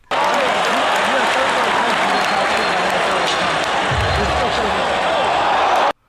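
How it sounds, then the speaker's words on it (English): A large crowd bursts into loud, sustained applause and clapping that fills the scene for several seconds before cutting off abruptly. "I love the reaction from the crowd."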